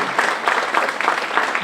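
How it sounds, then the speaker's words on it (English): Audience at a 9th grade spring school performance claps for the stage helper parents, a brief, even patter of many hands filling the hall. "another round of applause for our amazing stage helper parents."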